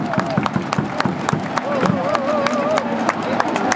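A baseball crowd at a KIA Tigers stadium claps in quick, rhythmic bursts while a loud amplified announcer talks over it.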